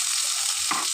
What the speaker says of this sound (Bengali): এবার আমি তেলের মধ্যে পেঁয়াজটা দিয়ে দেবো